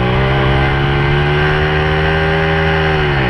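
A 1978 Yamaha Chappy LB50 moped pulls away hard, its small two-stroke engine note climbing steadily as it accelerates. The sound is loud and continuous, close by, with no talk over it.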